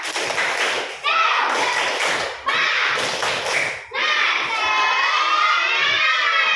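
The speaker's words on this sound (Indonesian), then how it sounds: "kita tepuk semangat dulu. Tepuk semangat." Schoolchildren in a fifth-grade classroom perform a rhythmic clapping cheer, several bursts of claps in a patterned beat, followed by loud group shouting of voices together, near and energetic.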